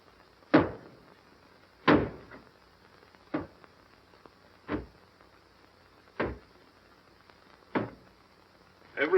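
A door is battered with heavy, evenly spaced thuds, seven blows about a second and a half apart, fairly close and with no talk over them.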